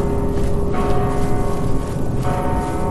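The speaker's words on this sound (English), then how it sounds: "So the bell rings only when the fog is active?" Bell tolling in the video game Mortal Shell, a sustained resonant ring with a fresh strike partway through, loud over a dim ambient drone, with no speech.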